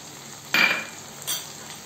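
Spices and tomato with onion, ginger and garlic sizzle in hot oil in a pan for ghugni. Two short scraping stirs come about three-quarters of a second apart over a faint, steady frying hiss.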